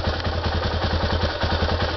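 A Yamaha TTR250 motorcycle engine idles steadily up close, its low, even thumping pulse continuous, with no talking.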